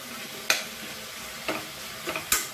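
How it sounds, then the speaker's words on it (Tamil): Agathi greens are sautéed with tomato in a pan, with a soft background sizzle broken by four sharp scraping stirs of a spatula, fairly quiet and with no talk. "அகத்திக்கீரையை சேர்த்து நல்லா ஒரு 2 நிமிஷம் வதக்கிக்கலாம்."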